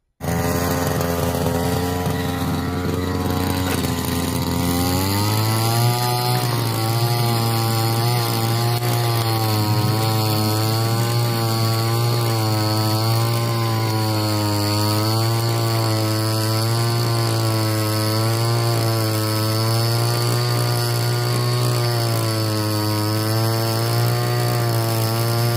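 Small two- or four-stroke grass cutter engine driving a soil tiller attachment, running loud and steady at close range, revving up after a few seconds and then holding a constant buzzing drone throughout.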